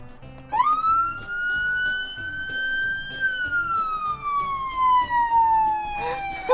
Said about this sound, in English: Yeah, that's the siren.